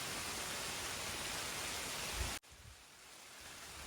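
Rain begins falling over farm fields on a hot day, a soft, even wash of hiss that drops off sharply midway and then slowly builds again.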